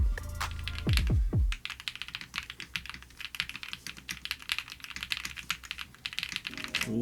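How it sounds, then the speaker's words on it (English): Rapid, crisp keystrokes clatter on a Black Diamond 75 mechanical gaming keyboard, a dense irregular stream of clicks after a brief low thump at the start. "This thing sounds great, especially for a gaming keyboard."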